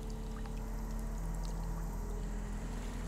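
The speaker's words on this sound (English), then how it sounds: "I just heard something splashing here." Water splashing and pouring in the survival video game Sons of the Forest, a continuous wash of watery noise over a steady low in-game hum, with no talking.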